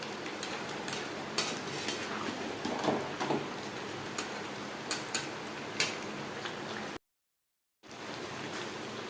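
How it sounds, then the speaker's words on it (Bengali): Potatoes and chicken being mixed in a pan for curry, with soft ticking utensil taps and scraping over a steady low sizzle, close and fairly quiet, with a brief silent gap near the end. "চিকেনের সাথে আলু বেশ ভালো করে মিক্স করে দেবো"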